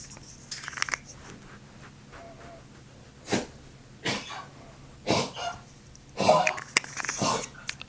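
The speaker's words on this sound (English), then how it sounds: "my dog has a heart condition and has to cough" A dog with a heart condition coughs in several short, harsh bursts spread across the clip, fairly close and separated by quiet gaps, with faint indoor background hum.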